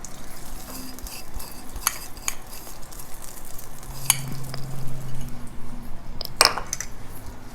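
Butter melting in a pan as brown sugar is tossed in for almond toffee bars: a soft, steady sizzle with light scraping and stirring, a few utensil clinks and a sharper clatter near the end, no voices.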